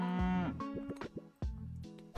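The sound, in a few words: cow mooing in Super Auto Pets video game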